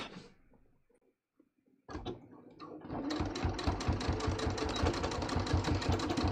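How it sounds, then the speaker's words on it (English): A sewing machine sews in a separating zipper. After a quiet start and a short pause it starts up, then runs with a steady, loud, close mechanical chugging and needle rhythm until the end. "So let's go ahead and just sew this."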